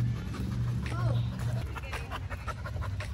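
Dogs on the path to a beach panting fast and close, with a short whimper in the middle, under quiet human speech.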